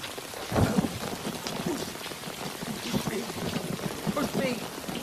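Steady rain falling and pattering on surfaces, a dense continuous hiss with scattered drops, while voices speak over it.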